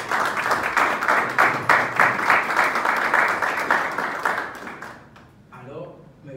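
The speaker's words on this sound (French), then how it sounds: "Je pense qu'il mérite des applaudissements." Audience applause at a French-language financial independence event, steady dense clapping for about five seconds before it tapers off, with a voice starting up near the end.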